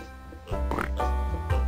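Hogfish pigs from the Freddi Fish 4 video game grunt and oink in a few short, voiced bursts, fairly close and clear over a low background hum.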